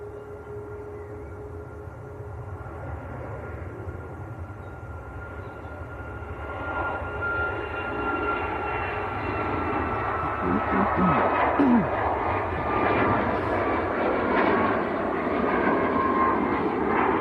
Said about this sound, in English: next to go, just about to roll, is TUI Banjul down in the Gambia